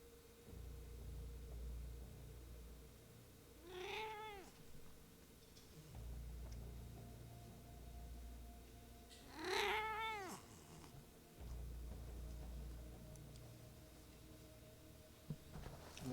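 A cat meows twice, clear and close, with a gap of several seconds between the calls, over a low hum and some quiet room noise.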